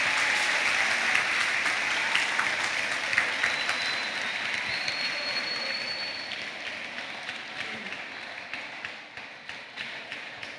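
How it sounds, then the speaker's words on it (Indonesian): A seminar audience breaks into sustained, dense applause to welcome a speaker at a literary festival, the clapping loud and continuous before slowly thinning toward the end. "mari kita sambut pembicara kita dengan tepuk tangan meriah, Ustadz Cahyadi Takaryawan"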